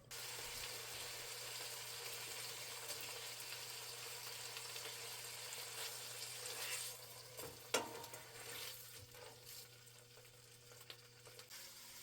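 Food sizzles and fries steadily in a pan, a dense continuous crackle at close range, with a brief clatter near the end and no talk.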